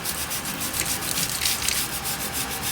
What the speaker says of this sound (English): we're going to scrub it with soap and water and see how it turns out